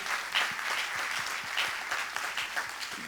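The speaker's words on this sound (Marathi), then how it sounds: "त्यांचं पण जोरात टाळ्या वाजवून आपण स्वागत करू." An audience at a launch ceremony welcomes a guest with dense, steady applause, many hands clapping continuously throughout.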